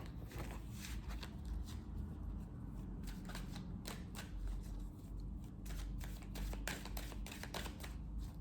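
A deck of tarot cards is shuffled and cut by hand, with rapid riffling flutters and soft slaps repeating in quick bursts, close and fairly quiet.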